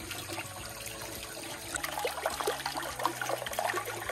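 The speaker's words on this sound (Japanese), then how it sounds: "ここにね水が出て" Water runs from a tap into a cold plunge bath in a restored old Japanese house, a steady close trickle and splash that grows fuller partway through, with no talking.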